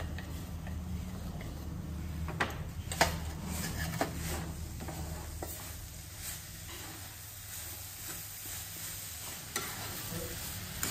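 Modak filling with jaggery being stirred in a pan, giving a steady soft scraping and sizzling texture with a few sharp spoon taps against the pan, fairly quiet and close, with no talking.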